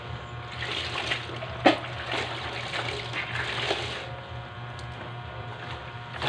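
Water runs steadily into a wash basin for hand-washing clothes, a continuous trickling splash with one brief louder splash early on, close and moderately loud.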